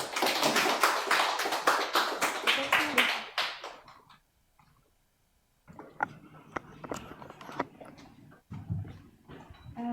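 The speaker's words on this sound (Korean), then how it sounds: "정희영 교수님을 큰 박수로 맞이하십시오" An audience at an evening literary lecture applauds to welcome a professor, a dense burst of clapping for about three seconds that fades into silence, followed by faint room noise and a voice.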